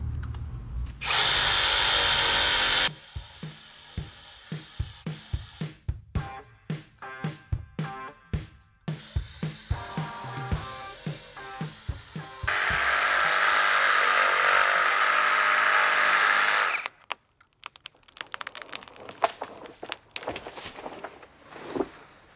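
A Ryobi ONE+ HP 18V brushless compact one-handed reciprocating saw cuts in loud, sustained rasping bursts. Stretches of rapid, stuttering blade strokes separate the bursts, all close and without talk.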